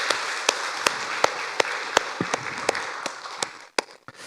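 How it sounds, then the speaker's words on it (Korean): A church congregation claps together at a Sunday worship service, steady rhythmic hand claps over a bed of broad applause that fades briefly near the end before a final few claps. "박수 한번 하도록 하겠습니다."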